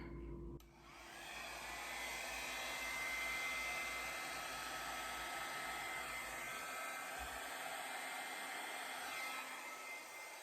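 A hair dryer blows steadily across wet acrylic pour paint, a continuous loud whooshing roar that holds for about ten seconds with no speech.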